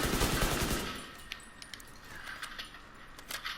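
Assault rifle fire in The Division 2, a loud dense burst of rapid automatic shots in the first second, followed by scattered quieter impacts, clicks and faint game effects.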